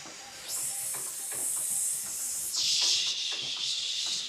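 Loud, sustained breath hissing during a cardio, glutes and core workout, two long forceful exhales pushed through the teeth back to back and filling the whole stretch, over faint rustling movement with no talking.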